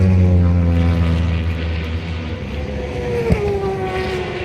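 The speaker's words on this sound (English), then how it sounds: "That one there sounds more like a racing bike." Racing motorbikes at the Northwest 200 road race drone past, a loud engine roar that shifts in pitch as one bike sweeps by at moderate distance, with no talking.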